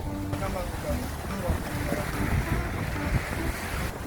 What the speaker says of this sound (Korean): 파도 치는데 저 배 나가는 거 보소, 배 나가는 거.